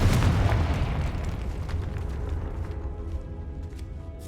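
A Confringo fire spell explodes in the Hogwarts Legacy video game, a loud, deep boom that rumbles and slowly fades over several seconds, with no one talking.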